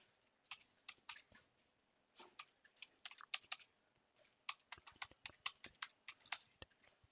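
Fingers typing a server address on a computer keyboard, crisp close key clicks in irregular quick runs with short gaps, quiet and alone.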